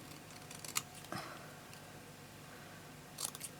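Scissors snip card-making paper in a few short, quiet cuts with small clicks spread across a hushed room.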